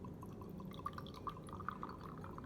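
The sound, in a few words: pouring a prepared solution into a small beaker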